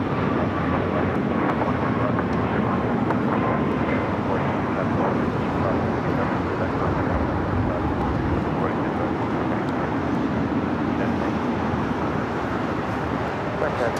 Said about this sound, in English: can hear the news choppers in the background.